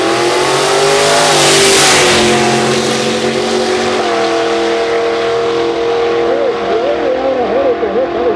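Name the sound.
1956 Chevrolet drag car with 440 engine accelerating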